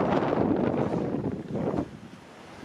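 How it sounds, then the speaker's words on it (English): Strong wind roars across the microphone in heavy, uneven gusts beside an excavator being serviced, easing slightly toward the end. "It's as windy as all get out and noisy"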